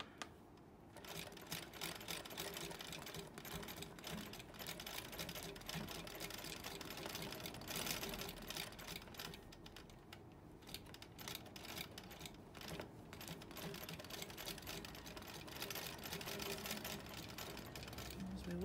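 A sewing machine set to 4 stitches per inch bastes a quilt, a quiet fast rhythmic clatter of stitching running almost continuously with brief pauses, heard close and alone.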